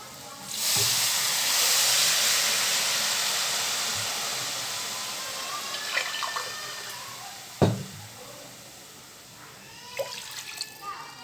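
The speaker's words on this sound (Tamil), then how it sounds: "இப்போ தண்ணி நான் இதுக்கு சேர்த்துக்கிறேன்" Water pours steadily into a cooking pan for pasta masala with a hissing rush for several seconds, then tapers off into a few drips and light clinks of the pan.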